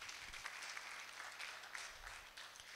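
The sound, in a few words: applause for the word of God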